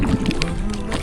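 Kayak paddling on Kantale reservoir, with water sloshing and gurgling against the hull in a steady, close wash for about a second, mixed with a low murmur of voices.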